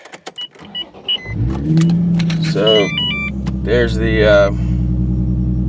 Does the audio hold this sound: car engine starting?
yes